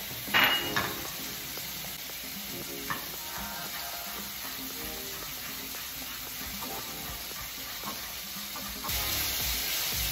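Steady, close sizzling of bacon-wrapped hot dogs frying in a pan, with a few clinks of utensils against the pan near the start and end.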